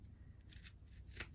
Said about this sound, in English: you just cut it down nice and flush with your zipper